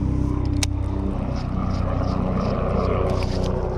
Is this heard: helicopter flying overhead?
yes